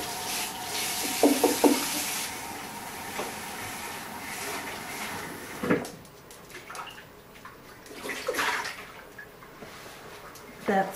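Cold tap water running over a vinyl record softened into a bowl in the oven, a close splashing gush that comes and goes with shifting flow, alongside brief voice sounds and handling noise.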